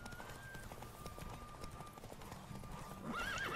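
A horse's hooves clip-clop steadily at a run in The Witcher 3: Wild Hunt, loud and continuous against game ambience, with a whinny rising near the end.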